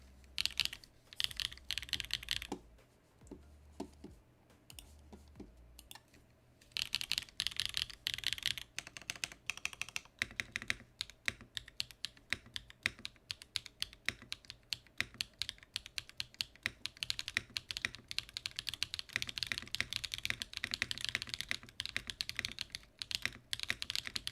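Rapid clacky typing on a foamless mechanical keyboard with Yu Ying tactile switches and an aluminium plate: dense bursts of crisp key strikes, close up, with a short lull early on before steady typing resumes.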